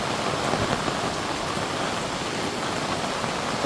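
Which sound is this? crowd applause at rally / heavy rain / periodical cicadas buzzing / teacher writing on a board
heavy rain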